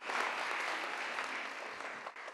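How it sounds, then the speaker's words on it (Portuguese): Audience of about 300 people applauding, a dense, steady burst of clapping that fades slightly near the end. "Aplausos surgiram após o homem falar para as 300 pessoas presentes"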